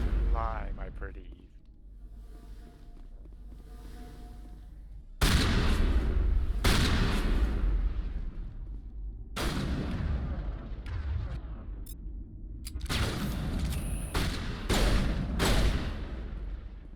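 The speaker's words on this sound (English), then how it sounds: "Pistol's pretty potent." Pistol gunfire in the sci-fi video game Mass Effect: loud sharp bursts of shots with heavy low booms, several clustered volleys over about twelve seconds, alongside game sound and background noise.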